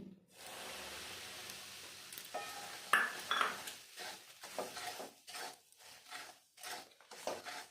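Semolina poured into melted ghee and stirred in a pan: a soft pouring hiss, then repeated scraping, rubbing stirring strokes with a faint sizzle, close but quiet.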